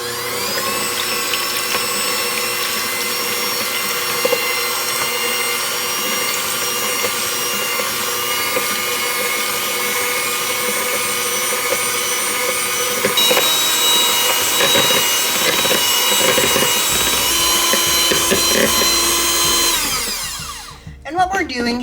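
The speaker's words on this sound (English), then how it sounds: "I'm going to take my mixer and I'm going to whip these eggs for about 2 to 3 minutes" An electric mixer whips eggs for French meringue, a loud, steady motor whine with a constant pitch that shifts up partway through and cuts off near the end, heard close without talking.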